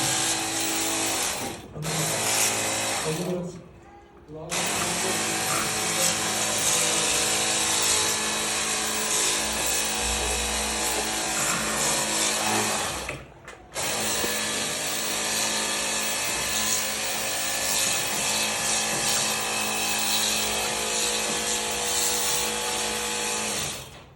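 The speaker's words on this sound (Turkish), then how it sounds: "Şöyle şuradan bir makine var koyuyor." A tripe-cleaning machine runs as a continuous loud, dense mechanical whir and rattle, broken by two brief dips, with no talk.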